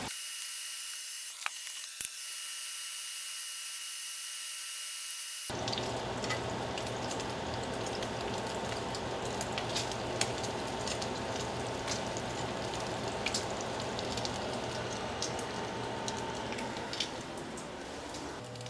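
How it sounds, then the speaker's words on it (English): Bacon crisping in a crowded skillet gives a steady rain-like crackling sizzle that starts abruptly after a few seconds and carries on evenly, with small pops throughout. "Getting our bacon nice and crispy here"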